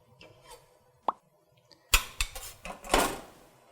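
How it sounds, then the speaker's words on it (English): Cloves and a bay leaf dropping into a metal stock pot during stock preparation, with a few faint early clinks followed by a cluster of louder metallic clatters and knocks at close range. "Then I add some cloves and bay leaf."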